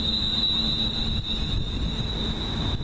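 Crowded passenger train bound for London Euston, steady loud rumble of the carriage running on the rails with a constant high whine over it, continuous throughout with no voices.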